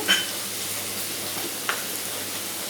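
Turmeric and chili powder sizzle in oil in a pan for a rohu fish curry, a steady close hiss with one brief clink.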